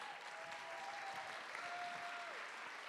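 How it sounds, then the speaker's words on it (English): A luncheon audience applauds its donors with steady, even clapping that holds for the whole stretch, heard at a moderate distance and fairly soft, with no voices over it. "a round of applause to everybody who gave"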